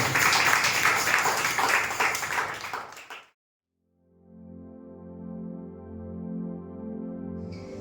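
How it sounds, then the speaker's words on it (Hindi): Church congregation at a Sunday service breaks into loud, dense applause that cuts off abruptly after about three seconds, followed by soft sustained keyboard or organ tones. "एक जोरदार ताली को यीशु मसीह के लिए उत्तम ताली करता है।"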